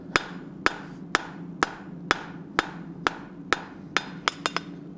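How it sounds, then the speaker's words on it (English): Hammer blows on hot metal at an anvil during blacksmith forging, about a dozen sharp ringing strikes at a steady, even rhythm, then a quicker final cluster, close and alone. "And then I'm going to true everything up on the anvil."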